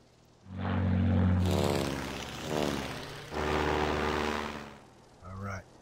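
A bomber's propeller engine drones in Sid Meier's Ace Patrol, a loud tonal hum that swells, fades, and swells again before cutting off briefly near the end.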